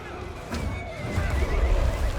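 In the Total War: Three Kingdoms battle, a horse lets out a loud, wavering neigh up close, followed by heavy hoofbeats and battle rumble building underneath.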